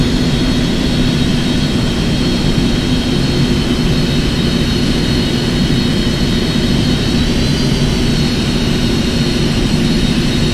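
Airliner jet engines in the X-Plane 11 flight simulator, a loud, steady, close roar with a high whine running through it, constant and unbroken with no talk.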